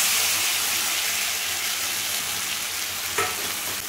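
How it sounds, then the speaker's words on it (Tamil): Tomatoes and mango seed sautéing in ghee for a traditional mango seed rasam give off a steady, close frying sizzle, with a single brief clink near the end. "இந்த நெய் ஊற்றிருக்கிறதுல போட்டு வதக்கிக்கலாம்."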